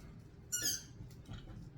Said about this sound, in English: There goes the squeaky toys.